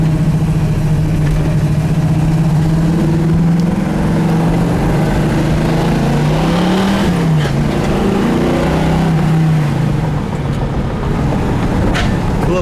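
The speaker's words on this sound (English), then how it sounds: "Has a nice cam and just a great idle to it as well." A 1970 Pontiac Firebird with a lopey cam idles steadily close by, a deep rumbling burble with a slight swell in revs midway and no talk.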